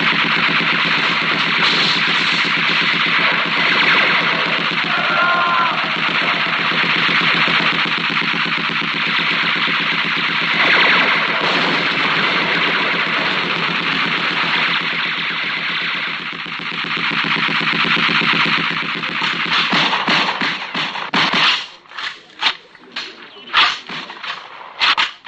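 Sustained loud automatic gunfire from a weapons demonstration in a 1974 Italian war film, a dense continuous roar that breaks into separate bursts and single shots near the end.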